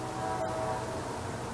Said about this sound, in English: in Illinois, I hear the freight trains.